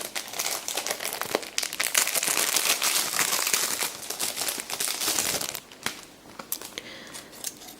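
Crinkly plastic AliExpress package being torn open by hand, with loud continuous crumpling and crackling close up for several seconds before softer intermittent rustles.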